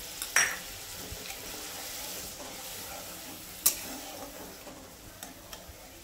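Strained poppy seed water poured into a pan for katla fish tel jhal, a soft hiss and sizzle with a couple of sharp clinks, close and fairly quiet with no talk.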